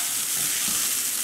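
Garlic rice stirred in a pan over low gas: a steady, close hiss of frying with soft scraping from the stirring, continuous and fairly quiet, with no talk.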